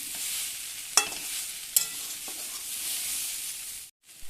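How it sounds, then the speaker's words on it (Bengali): Sliced cucumber and green chilli are stirred in a pan over soft frying hiss, with two sharp clinks of the utensil against the pan early on. "শশা লঙ্কা কিছু সময় একটু নেড়ে চেড়ে হবো"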